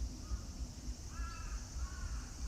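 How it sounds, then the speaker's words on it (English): Crows call a few times in a Tokyo park on a cloudy day, harsh caws rising over a steady low rumble of city background noise, moderately distant. "Not sure what these birds are, but they are naturally living here"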